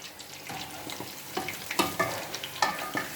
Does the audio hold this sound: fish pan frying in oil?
yes